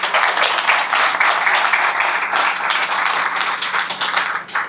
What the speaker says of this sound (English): Give yourself a round of applause for showing up tonight.